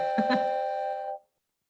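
A school bell rings as a steady electronic chime of sustained tones with a couple of soft strikes near the start, then cuts off after about a second.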